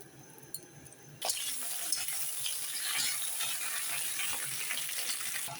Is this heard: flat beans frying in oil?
yes